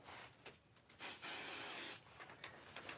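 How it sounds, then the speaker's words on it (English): A close, short hiss of a spray bottle misting adhesive onto a stencil for about a second while scrapbooking, between quieter rustles and small taps. "I'm going to just put a little bit of pixie spray on that"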